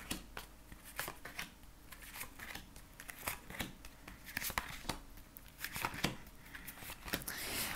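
Tarot cards are shuffled by hand for a nine-card spread, a quiet run of crisp papery flicks and taps in an irregular rhythm, close but soft.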